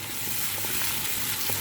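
A ginger, garlic and cumin paste sizzles in hot oil, a dense steady frying hiss, close and continuous, with no voices.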